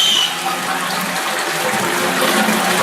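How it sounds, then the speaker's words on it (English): Toilet cistern flushing: a loud, close rush of gushing water pouring steadily throughout, broad and hissy, no talk. "So let's flush it and make sure how high this lever comes up."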